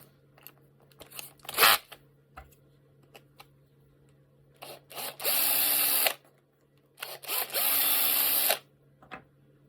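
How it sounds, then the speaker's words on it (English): A 5mm bit drills into a part during a DIY robot hand wrist assembly, in two sustained bursts of a few seconds each with short ticks and taps between them, close and loud. "and then up to a 5mm drill"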